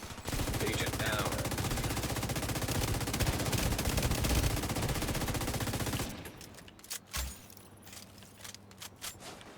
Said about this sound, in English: There's a lot of panic shooting.